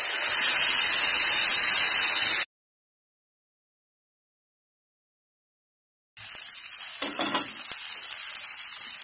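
Tomatoes hit a hot pan with garlic and fry in a loud, hissing sizzle, which cuts out abruptly into silence, then returns steadily with a brief clatter of stirring.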